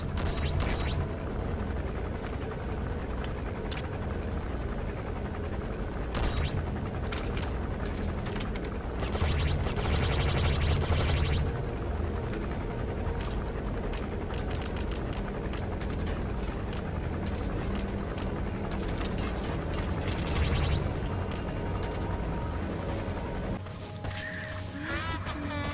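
A helicopter in the video game Metal Gear Solid V: The Phantom Pain gives off a steady rotor and engine drone that fills the whole stretch, with scattered knocks and clatter over it and a brief drop near the end.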